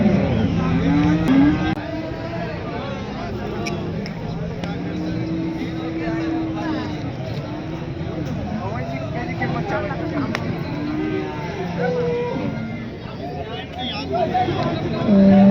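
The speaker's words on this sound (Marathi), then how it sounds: "गाभण गाई आहे तिसरं" Pregnant cows moo at a busy Thursday cattle market in Alephata, their low calls rising and falling among steady crowd chatter and talk nearby.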